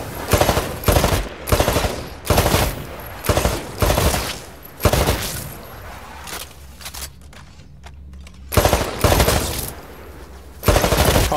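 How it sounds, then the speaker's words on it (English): Rifle fire at a shooting range in the video game Titanfall comes in loud, close bursts of rapid automatic shots separated by short pauses, with a quieter lull before the final bursts. "Destroy all of the targets in the shooting range."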